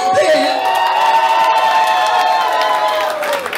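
A concert audience applauds and cheers for an impersonator of a singer at a show in Kharkiv. A dense, steady wash of crowd noise runs under sustained, ringing musical tones for the whole stretch.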